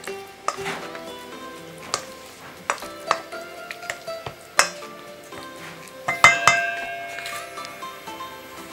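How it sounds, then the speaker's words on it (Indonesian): Cooked yellow pumpkin being mashed with a rice spoon in a pan, with repeated sharp scraping and clanking knocks of the spoon against metal over a soft sizzle, irregular and close. "sekarang kita mau halusin labu kuningnya"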